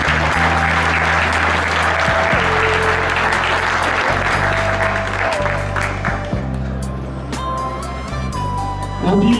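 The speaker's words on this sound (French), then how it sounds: "Et on peut les applaudir bien fort." Applause at a Charolais cattle show in Saint-Gervais d'Auvergne, with a crowd clapping over a loud low engine drone and steady background noise for several seconds.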